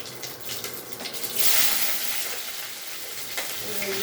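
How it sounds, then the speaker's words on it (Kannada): Onion drops into hot oil with mustard seeds and cumin for a tempering, bursting into a loud hissing sizzle that swells and then settles into a steady frying crackle. "ಸಾಸಿವೆ ಜೀರಿಗೆ ಹಾಕಿದ್ದೀನಿ. ಇವಾಗ ಈರುಳ್ಳಿ ಹಾಕ್ತೀನಿ ನೋಡಿ."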